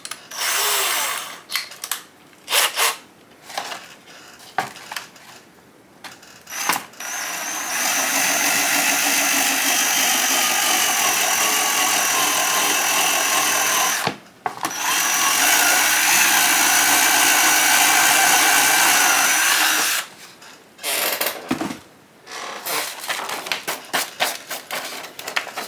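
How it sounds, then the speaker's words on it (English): A step drill widens a hole to 8mm in HIPS high impact polystyrene. A loud, close, sustained whirring run is broken by one brief stop, with choppy short bursts before and after. "So now I'm going to use this step drill"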